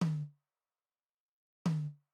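Two short, punchy tom drum hits from MIDI drums with Studio One's Strip Silence applied, each a boomy low thump with a quick decay cut to dead silence in between.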